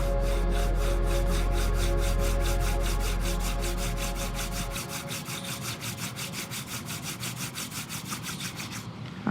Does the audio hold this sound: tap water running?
no